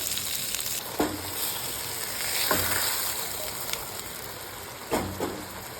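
Yellow catfish pieces slid into a pan of simmering masala gravy, with a steady sizzling bubble punctuated by a few sharp clinks and splashes as the fish goes in, no speech.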